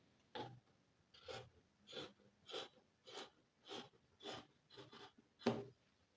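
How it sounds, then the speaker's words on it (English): Scissors snip through fabric while shaping the neckline of a kaftan gown, about ten close, quiet, evenly spaced cuts in a steady rhythm. "I'm now going to cut the neckline for the front."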